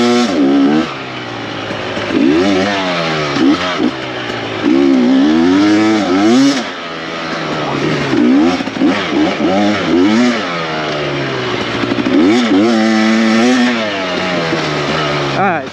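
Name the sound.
2024 KTM 300xc-w dirt bike engine revving while riding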